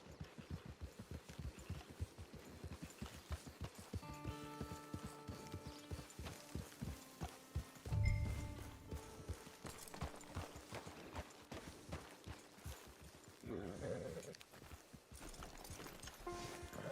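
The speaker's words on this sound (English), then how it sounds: "There's the camp. It's your horse." Horse hooves clip-clop in Red Dead Redemption 2 as a horse walks up to a camp, a steady rhythmic patter of moderate loudness over game music, with a brief louder thump midway.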